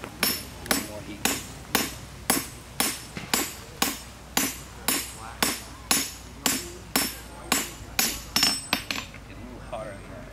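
At an outdoor historic-site demonstration, a blacksmith hammers hot iron on an anvil with about eighteen sharp, ringing, evenly spaced blows, close and loud, the pace quickening slightly near the end.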